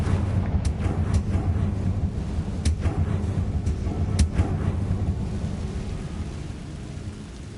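A Confringo fire-blast spell in the video game Hogwarts Legacy goes off as a deep rolling rumble with several sharp cracking bursts, loud at first and slowly fading over a continuous low roar.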